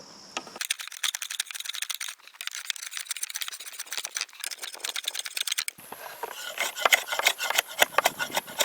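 Wood on a flat bow being cut and shaved toward a marked line, a steady run of rapid scraping, rasping strokes close up with brief pauses, growing brighter and harsher over the final few seconds.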